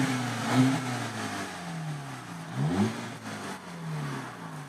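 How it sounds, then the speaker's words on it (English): A car engine with an electric exhaust cutout valve closed revs in a few short, fairly quiet blips, rising and falling pitch sweeps over a low idle hum, no talk. "I'm going to close the valve here."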